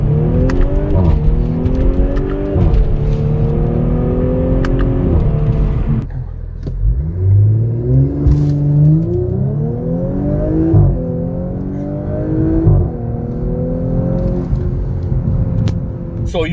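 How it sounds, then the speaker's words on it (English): A B9 Audi S5 fitted with a CTS high-flow cat accelerates hard from 0 to 60, the engine climbing through several gears with rising revs, shift breaks and a loud throaty exhaust, recorded close up with no talking. "Now I'm gonna do a quick 0 to 60, up ahead a bit more. Let's check how this thing sounds."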